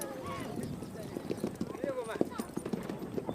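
Horse hooves clip-clopping in an uneven, rapid patter, with faint whinny-like calls mixed in and a voice speaking over them.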